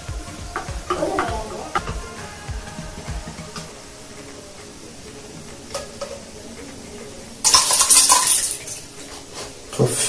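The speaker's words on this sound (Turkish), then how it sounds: "Kefirimizi önce içinde biraz karıştırıyorum" Homemade kefir stirred in a container with a utensil, scattered clinks and scrapes of metal against the vessel, close and uneven, with a louder burst of clattering near the end.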